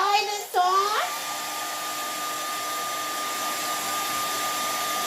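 A hair dryer drying acrylic paint starts with a rising whine after a brief pause, then blows steadily with a constant high-pitched hum and airy rush, close by.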